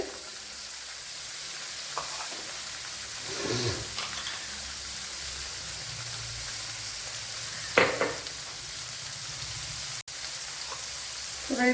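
A big onion sizzles steadily in a pan with a soft, constant fry, broken by a few scraping stirs for a Kerala-style curry. It is faint and close, with no talking.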